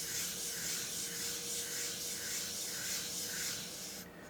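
A steel blade rubs steadily back and forth on a Morihei 4000 whetstone with a slurry on it, a continuous close gritty scraping in slow even strokes that stops abruptly at the end.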